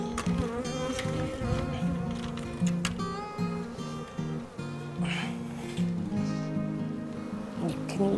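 Many bees swarming around a compost bin make a dense, steady buzz with shifting pitched drones, heard close and continuous; faint voices murmur now and then underneath.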